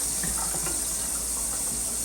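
A modern kitchen faucet in a renovated Japanese house runs in splash mode, giving a steady, dense hiss of spraying water that goes on without a break and with no one talking.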